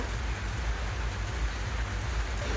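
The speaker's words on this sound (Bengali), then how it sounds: "তো বন্ধুরা বৃষ্টি ছিল" Steady hiss of rain falling, constant and fairly soft, with a low rumble underneath and no voices.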